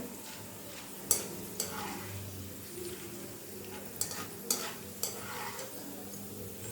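Sesame oil sizzles softly in a pan frying dried manathakkali berries while a spoon stirs, with a few sharp clinks and scrapes against the metal.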